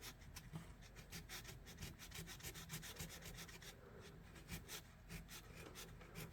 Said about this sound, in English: Let's start with just a little bit of 600 grit sandpaper. See if we can loosen up some of this rust,